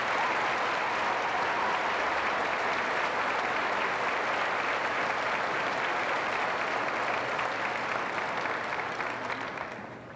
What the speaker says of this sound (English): Let's take a moment to give these students a round of applause.